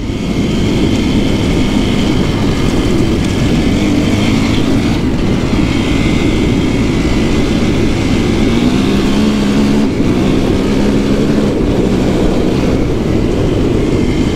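Steady, loud engine drone from a motorcycle being ridden after a few months off, with wind roar and a constant low hum that rises slightly in pitch near the end, and no voices.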